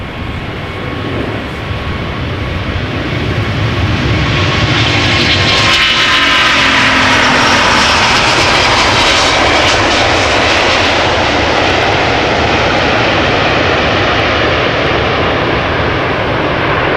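A jet airliner takes off up close at Amsterdam Schiphol Airport, the engine roar swelling to a loud, sustained, thundering blast that fills the air from a few seconds in and holds to the end, with no talking.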